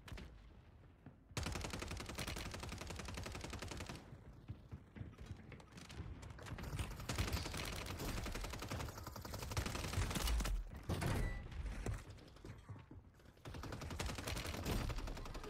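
Sustained gunfire from a shooter game, dense rapid shots rattling almost continuously with a few brief pauses, loud and close, with no talking.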